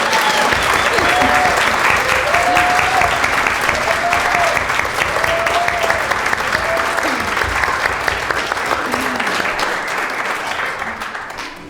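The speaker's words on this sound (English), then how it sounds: "Why don't we just have a round of applause for all these children?" A congregation gives a long round of applause for children at a storytelling service, steady dense clapping that fills the room for about ten seconds and slowly fades, with a few voices over it.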